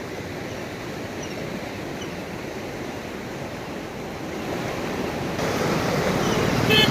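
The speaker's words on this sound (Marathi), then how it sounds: "मुसळधार पावसानं भीमा नदीला उन्हाळ्यात पूर आलाय" Floodwater of the Bhima river, swollen by heavy out-of-season summer rain, rushes in a steady broadband roar that holds without pause and swells louder toward the end, with no voices.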